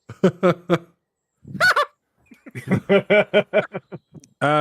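Honking sound effect of big scary chickens in a tabletop role-playing game: three quick loud honks, a squawk, then a rapid run of harsh goose-like honks ending in a sustained blare, with no voices over it.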